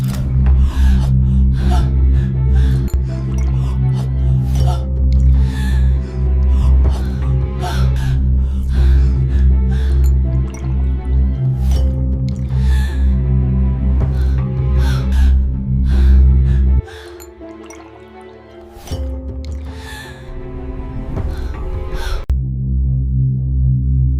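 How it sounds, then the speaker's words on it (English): A woman gasps awake in her bed, sharp breaths repeating over a loud, sustained droning music bed that dips briefly near the end. "Stephanie wakes in her bed, gasping, clutching her chest"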